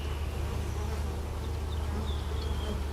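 A honeybee swarm that has settled in a barn hums in a dense, steady drone, close and continuous, with no voices over it.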